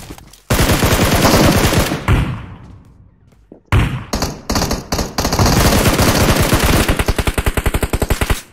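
Loud, close automatic gunfire in the PUBG Mobile battle royale game: long rapid bursts with a brief lull in the middle, then sustained rhythmic firing to the end.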